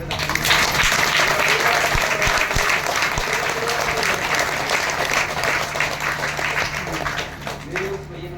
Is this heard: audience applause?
yes